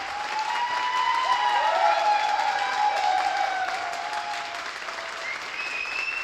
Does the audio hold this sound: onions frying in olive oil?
no